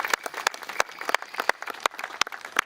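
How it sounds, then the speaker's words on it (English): Applause from a small audience at an Australia Day 2019 community gathering in Loch Sport, honouring the Lions Club: sparse, distinct claps from a modest crowd, fairly close and moderately loud, with no talk over it. "How about we start off with a round of applause to the Lions Club for the work that they do for our community"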